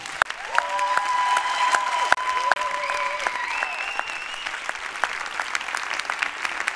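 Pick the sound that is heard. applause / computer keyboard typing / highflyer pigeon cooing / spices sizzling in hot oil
applause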